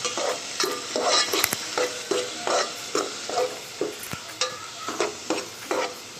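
Onions and green chilies fry in oil while a spoon stirs them in a pan, a rhythmic series of regular scraping strokes over a continuous sizzle, close and clear with no voices.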